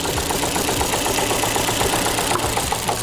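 Ford Fiesta engine with a mechanical fault running during a cylinder test, a close, steady idle with a rhythmic knocking pulse throughout, no talk.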